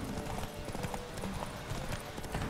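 Horse hooves clip-clop steadily in The Witcher 3 on PC, a dense, continuous run of gallop beats under a busy game soundscape.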